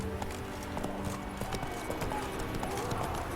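Roach, a horse in The Witcher 3, clip-clops at a steady gallop with brisk rhythmic hoofbeats, close and constant, over game music and ambience.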